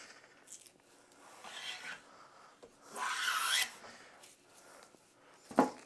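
A hand tool shaves pallet wood in a few separate rasping strokes, the longest and loudest near the middle, close and fairly quiet, with a sharp knock near the end.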